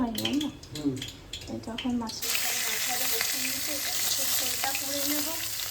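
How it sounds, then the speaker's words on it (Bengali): Fish frying in a pan at home, a continuous close sizzle that swells louder partway through, with someone talking over the start. "এখন মাছ ভাজবো"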